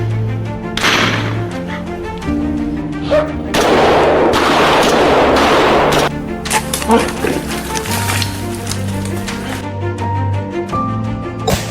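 Gunshot from a hunter shooting a bear on farmland, heard as sharp, loud blasts standing out amid a dense mix of other sounds and a voice.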